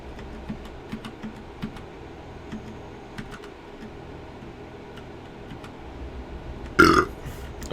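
A single short, loud burp after drinking soda erupts near the end, following quiet keyboard tapping and faint ticking during a truck driving simulator game session.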